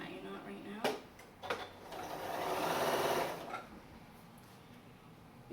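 A Janome 9400 sewing machine tying a knot, a short mechanical whirring burst after a couple of clicks, close and moderately loud, with a person talking around it.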